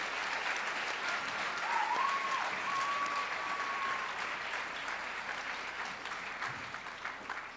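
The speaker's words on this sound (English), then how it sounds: "I think our incoming ninth graders deserve a way better round of applause" Audience at a high school vocal concert gives a sustained round of applause for incoming ninth-grade choir members, a thick, even wash of clapping from a crowded hall that holds steady and slowly thins toward the end.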